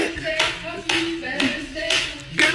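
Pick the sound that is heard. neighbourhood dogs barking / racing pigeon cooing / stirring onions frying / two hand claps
two hand claps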